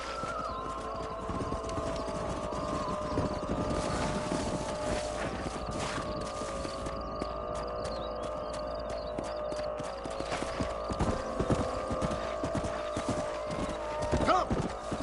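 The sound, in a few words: horses' hooves clip-clopping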